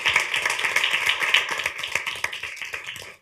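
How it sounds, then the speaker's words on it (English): A room of people applauding at a county commissioners' meeting to honor a long-serving staff member: dense, steady clapping from many hands that holds for about three seconds before cutting off. "Let's give that a round of applause."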